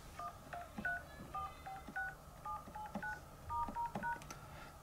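Keypad dial tones from an iPhone 11 Pro, a quick series of distinct short beeps pressed one after another in an uneven rhythm, fairly quiet and close, with no talking.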